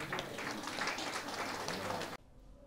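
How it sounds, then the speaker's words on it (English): Dense applause from the audience at a Rotary Club installation ceremony welcoming the new president runs steadily for about two seconds, then stops abruptly. "Please, help me clap for him."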